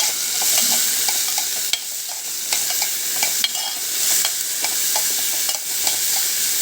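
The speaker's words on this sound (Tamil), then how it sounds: "மாங்காய் ப்ளஸ் கல் உப்பு போட்டு கொஞ்சம் நேரம் ஆயிலில் வதக்கணும்" Raw mango pieces with rock salt sizzle in hot oil for a manga kootu, a steady frying hiss broken by repeated light clicks and scrapes of stirring in the pan, with no voices.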